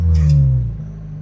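An Audi turbo car engine revving, a loud close drone that swells briefly then drops in pitch as the throttle eases, with a faint hiss early on and no voices.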